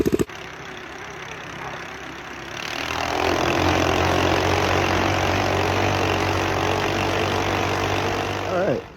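A mini bike's small engine starts up and runs steadily on a trail ride, a loud continuous drone that rises after a few seconds and holds until it cuts off near the end.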